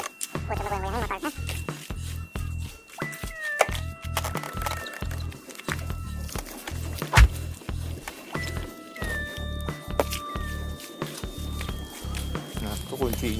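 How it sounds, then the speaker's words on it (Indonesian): An anti-theft alarm on a Yamaha R25 motorcycle goes off as the bike is shaken. It gives electronic chirps and sweeping tones in two main bursts over a choppy, rumbling handling noise, heard close and fairly loud. "kalau misalkan kunci ini jauh, motornya goyang, dia bakal bunyi"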